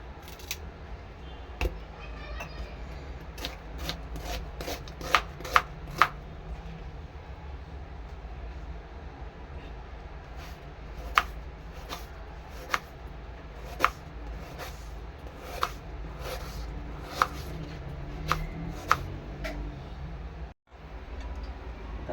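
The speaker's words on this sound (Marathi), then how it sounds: "कुरडूच्या भाजीसाठी आपण आता कांदा कापणार आहे" A knife cuts onion on a board for a wild leafy vegetable dish. Sharp chopping knocks come in quick bursts of several strokes with pauses between them, over a low steady background hum.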